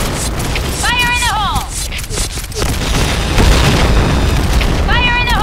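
Grenade blast in the shooter game Point Blank on the Luxville map, a heavy boom rolling under constant gunfire and game noise, with other effects chirping and a voice shouting over it.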